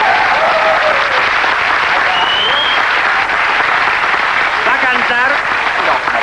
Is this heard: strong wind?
no